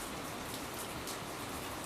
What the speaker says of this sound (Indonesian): Ini hujan-hujan.